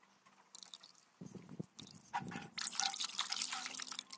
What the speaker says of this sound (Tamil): அடுத்ததாக சுத்தமான தண்ணியில் நம்ம செஞ்சு வச்சுருக்க கம்ஃபர்ட் லிக்யூடை தேவையான அளவு சேர்த்து கலக்கிடலாம்.